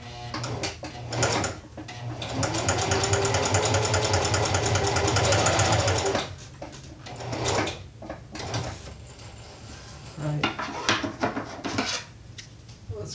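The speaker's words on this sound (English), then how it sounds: "So there you can see, stitching through leather, absolutely no problems." A Singer heavy duty sewing machine stitches through automotive leather, a dense steady mechanical chatter running for about four seconds, then stopping, followed by scattered handling clicks and knocks nearby.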